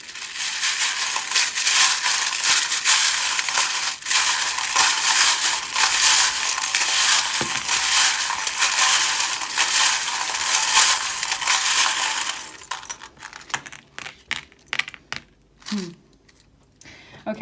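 A tarot deck is shuffled steadily for about twelve seconds in a dense, continuous rustle; then a small crown charm falls out with a few sharp, light clicks and clatters in near silence.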